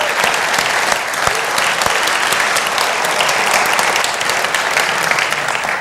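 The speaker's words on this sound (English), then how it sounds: "So we'll give them a big round of applause" Loud, sustained applause from an audience at a NEAF astronomy talk, thanking the AV crew: a dense, even roar of many hands clapping close by for several seconds.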